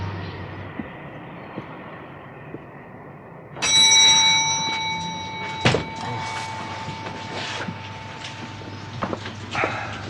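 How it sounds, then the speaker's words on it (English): A hotel reception desk bell is struck once, giving a bright, clear ring that hangs and slowly fades over several seconds, followed by light knocks and quiet room noise. "Ring the bell."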